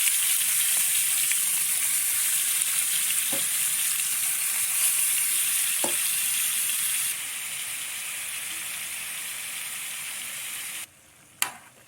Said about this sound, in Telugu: ఇప్పుడైతే మనం ఆయిల్ వేడైన తర్వాత అందులో మనం కలిపి పెట్టుకున్న ప్రాన్స్ మొత్తం ఇందులో వేసుకుంటాం